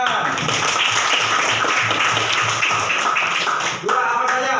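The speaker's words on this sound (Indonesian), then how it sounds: "Kasih tepuk tangan." A classroom of students clapping hands together at the teacher's prompt, a lively, close burst of many claps with faint voices mixed in, easing off near the end.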